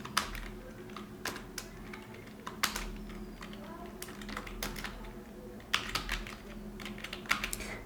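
Keys clatter on a computer keyboard as a name is typed, with irregular bursts and quick clusters of close, crisp taps and short pauses between them.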